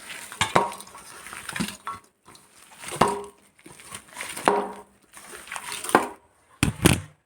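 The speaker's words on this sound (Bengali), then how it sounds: "এই দেখুন, আমি এগুলো দিয়ে এবার খুব তারে মেখে নেব।" A kebab mixture with coconut powder and a raw egg is kneaded by hand in a bowl, giving close, squelchy stirring and mashing with repeated clinks and knocks against the dish and gaps between strokes.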